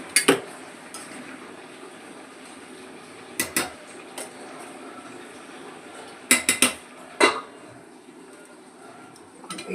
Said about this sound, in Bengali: ঢাকনাটা বন্ধ করে দেবো।